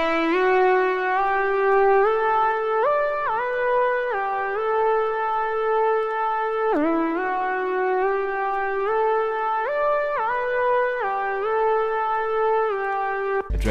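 A synth sample from the Splice pack Synesthesia plays a bright, reverberant melodic line of sustained notes with pitch steps and slides, loud and alone without any talk.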